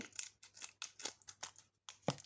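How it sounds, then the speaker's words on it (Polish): Scissors cutting open an Easter gift card sachet: a run of about seven sharp, quiet snips in an uneven rhythm close by, with the last one slightly louder. "Muszę to odciąć nożyczkami."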